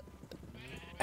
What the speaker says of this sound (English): while I'm down here, I might as well shear some sheep